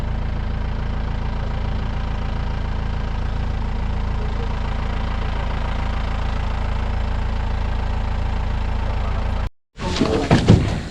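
A jeep engine idles with a steady low rumble for a long stretch at a nature resort in Sakrebailu, Shivamogga, Karnataka, then cuts off abruptly into a burst of louder, rougher noise.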